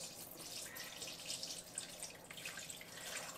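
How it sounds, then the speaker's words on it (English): Jelly liquid pours into a Dalek-shaped mould in a kitchen, a steady bright trickling and splashing stream with small drips that runs continuously at close range. "I'm just literally pouring it into this mould"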